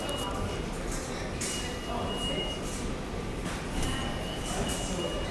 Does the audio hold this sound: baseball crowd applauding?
no